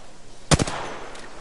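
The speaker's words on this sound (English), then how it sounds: "Nah, I was shooting." A quick burst of gunfire in a PS4 shooter game: two or three sharp shots close together, followed by a faint later shot over quiet background.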